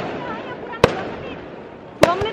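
New Year fireworks bursting outdoors, two sharp loud bangs about a second apart over a background of distant crackle and people talking.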